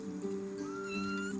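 A jungle cat lets out a single short meow, a faint, drawn-out tonal call that bends upward partway through and lasts only about a second and a half.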